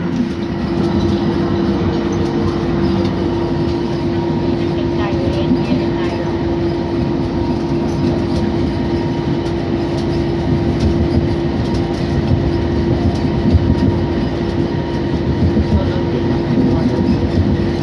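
Aboard a BTS Gold Line driverless rubber-tyred train in Bangkok as it accelerates, a loud, steady rumble and hum fill the cabin throughout, with a constant low drone and no speech.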